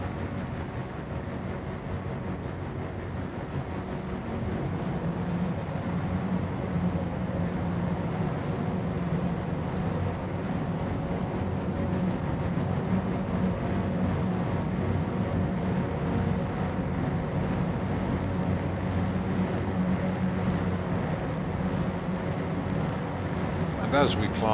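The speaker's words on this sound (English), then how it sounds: "The engines do get quite noisy at this phase." Spacecraft engines in Star Citizen roar steadily on the climb out of the atmosphere with afterburner applied, a continuous loud broadband rumble that holds without break throughout.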